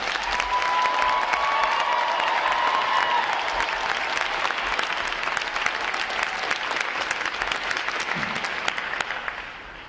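A large audience applauds graduating Navy recruit divisions at a Recruit Training Command graduation: dense, steady clapping that stays loud and unbroken for the whole stretch, with no voices standing out.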